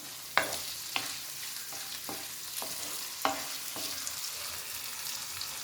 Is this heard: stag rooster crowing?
no